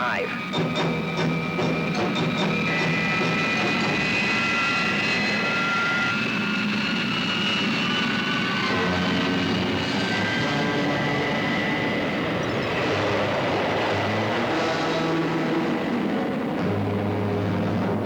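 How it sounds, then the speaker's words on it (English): Engines of the Thunderbird 2 aircraft roar loud and continuous through a dive, a dense sustained drone with shifting whining tones, dialogue partly over it. "Engines are running smoothly, but the tail section's giving trouble."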